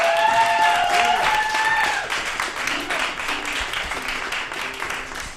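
An audience applauds a speaker at a town hall event, a steady wash of clapping that gradually thins out over several seconds, with some tonal sound over the opening.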